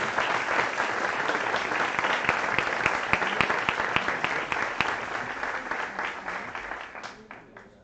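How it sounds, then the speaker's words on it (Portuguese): A church congregation at a prophetic conference claps together in a thick, continuous wave of applause that holds strong, then gradually fades toward the close. "vamos aplaudir o Senhor mais uma vez"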